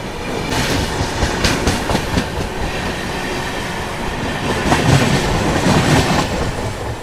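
Krishna Express running alongside the Humsafar Superfast Express, with steady loud rail rumble, rhythmic clickety-clack of wheels over joints and occasional metallic squeals, continuous throughout without talk.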